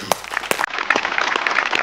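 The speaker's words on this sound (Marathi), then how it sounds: "जोरदार टाळ्या" A studio audience at the Maharashtrachi Hasyajatra comedy show claps for Sumit Shetty as he walks onto the stage, a brief, close burst of scattered hand claps.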